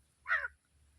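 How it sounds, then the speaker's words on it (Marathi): A single crow caws once near a farm field, a short clear call rising out of a quiet background with a faint low hum. "शेतात असल्यामुळं कावळ्यांचा आवाज येतोय,"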